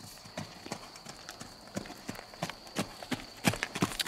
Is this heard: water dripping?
no